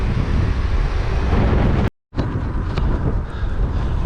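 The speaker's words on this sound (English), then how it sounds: "The wind is a major factor." Strong wind while cycling in Tunisia buffets the microphone with a loud, steady roar. It cuts out briefly for a moment of silence, then rushes back just as hard.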